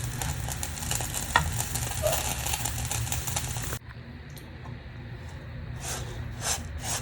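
Sesame seeds frying in a dry pan give off a dense crackle and sizzle with scattered pops, stirred briefly, then a quieter stretch of fainter crackling after a sudden drop in level.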